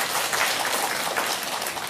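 Church congregation clapping together during a Sunday service to welcome a member, a steady dense patter of hands filling the room at moderate volume for a couple of seconds.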